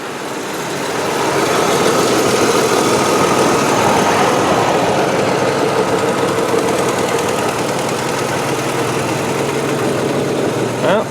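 A 2004 Land Rover Freelander SE idles steadily up close, a loud continuous engine drone with a faint vibrating rattle running throughout and no voices.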